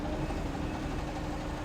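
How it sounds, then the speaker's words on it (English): A tractor in Farming Simulator 17 drives a wood chipper and its engine strains under load. It makes a steady, low, rumbling drone that stays at an even level throughout, with no talk. "you can hear the tractor is under strain now"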